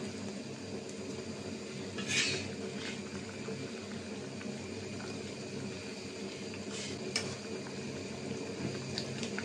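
A pot of nola fish curry with tomato bubbles at a steady, low boil, a continuous soft gurgling and hiss with a couple of brief louder splutters, and no voices.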